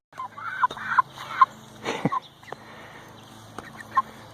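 Chickens cluck faintly in an outdoor yard in town, a few scattered soft clucks and low mutters spaced out over steady quiet background noise.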